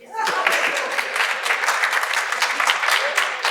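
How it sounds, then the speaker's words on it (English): An audience at a pan-African conference applauds, a dense, steady wash of clapping that starts abruptly and continues at even loudness throughout. "Clap for me, please."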